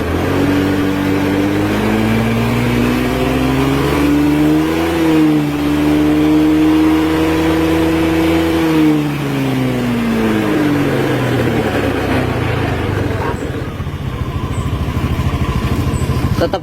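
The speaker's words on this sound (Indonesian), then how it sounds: "Nah, kita coba pelintir gasnya." A Honda scooter engine revs as the throttle is twisted, a steady mid-pitched drone rising and falling smoothly in pitch, then settling back to a rougher idle, loud and close throughout.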